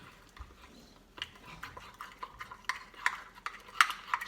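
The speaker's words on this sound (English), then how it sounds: "Okay, we're just gonna mix." A spoon stirs flour and peanut butter together for microwave cookie dough, making soft scraping and light clinks against the bowl. The scrapes start sparse and quiet, then turn into a quicker, louder run of strokes close by.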